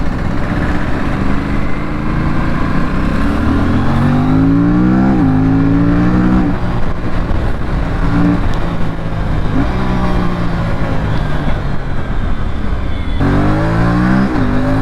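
An Aprilia RS457 motorcycle accelerates hard and loud up close, its engine pitch climbing, then dropping abruptly at each quickshifter gear change before rising again, several times in a row.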